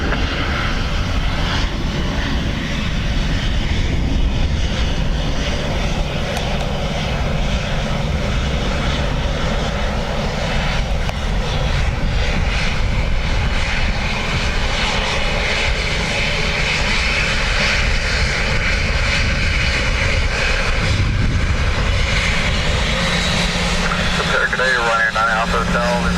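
A fixed-wing airliner lands on runway 28 left at Dublin Airport on a windy day, its engines a loud, steady roar that fills the whole stretch, with a voice speaking over it near the end.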